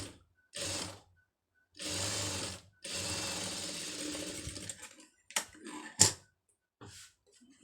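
A sewing machine stitches blouse fabric in several short bursts of rapid whirring chatter separated by pauses, close and clear with no talking.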